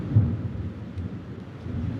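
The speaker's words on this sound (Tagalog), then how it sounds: "Huwag matakot sa kulog." Low, rolling thunder rumbles steadily through a thunderstorm, with faint rain beneath, fairly loud and continuous with no talking.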